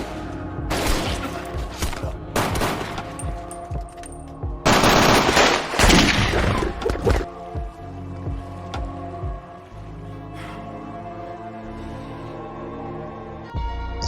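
Gunfire in a movie scene: several bursts of rapid automatic shots in quick clusters, loud and close, followed by quieter resonant sound and a final sharp crack near the end.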